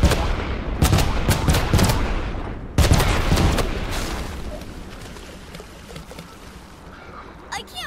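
Rapid bursts of explosions and gunfire-like blasts from an airstrike in the game Worms, loud and dense at first and then fading, with people talking over them.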